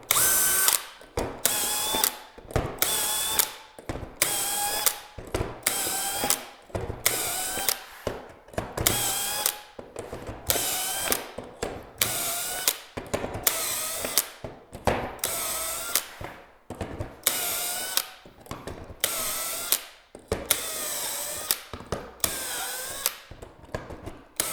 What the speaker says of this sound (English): So I'm just going to finish drilling this.